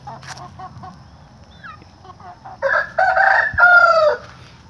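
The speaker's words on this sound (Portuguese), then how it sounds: "O galo reprodutor, pessoal." A breeding rooster clucks softly a few times, then lets out a loud, drawn-out crow close by, its final notes the strongest.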